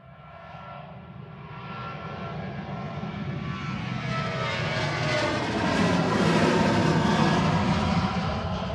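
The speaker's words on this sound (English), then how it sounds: "This is Ryanair to Genoa, EIDWF operating flight 6983, a 16-year-old 737-800." Ryanair Boeing 737-800, a 16-year-old jet on flight 6983 to Genoa, roaring at Manchester Airport as its engine noise swells steadily louder and closer over several seconds, heard alone without talk.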